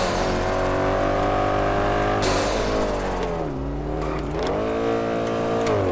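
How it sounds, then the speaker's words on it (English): Turbocharged Lexus engine revving hard and loud inside the car, droning with rising and falling pitch sweeps and a sharp jump in intensity partway through, with no one talking. "This damn turbo going crazy."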